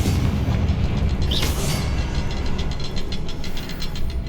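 Confringo explosion spell blasting in Hogwarts Legacy, a loud booming burst around one and a half seconds over a continuous rumbling, rattling game background.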